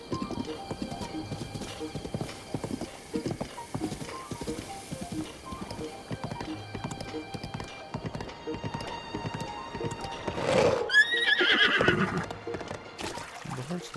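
Horse in the Zelda: Breath of the Wild video game, steady rhythmic clip-clop of hooves throughout, then a loud whinny near the end.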